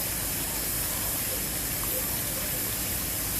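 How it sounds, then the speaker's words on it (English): Chicken wings fry in hot oil with a steady, loud, unbroken sizzle and hiss that holds for the whole stretch, with no voices. "I'm going to be putting my chicken in the oil."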